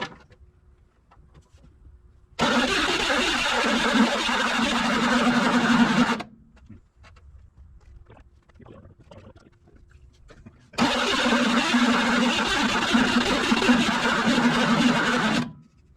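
A CMP truck's engine cranks and runs in two loud, steady bursts of about four seconds each, with quieter gaps of shuffling and faint voices between them.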